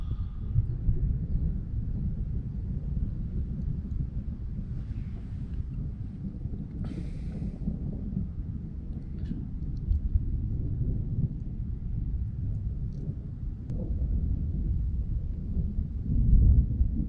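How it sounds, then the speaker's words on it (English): Low thunder rumbling steadily through a lightning storm over Fort Erie near Niagara, a deep continuous roll with faint wind and rain hiss, heard from a distance with no talking. "Thunder's getting louder."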